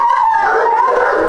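Dogs at a Kenyan kennel housing Rottweilers and German Shepherds let out a long, wavering howl that slides up and down with yelping edges, loud and close throughout.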